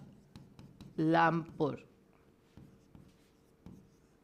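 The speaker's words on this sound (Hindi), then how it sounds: "तो मैं दोनों लिख देती हूं" Faint, intermittent taps and scrapes of writing on a board in a classroom, spaced irregularly, with someone briefly speaking near the start.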